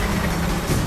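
A truck rumbles by in Mass Effect 2, a steady low engine drone that fills the short moment at an even, fairly loud level with no voices over it.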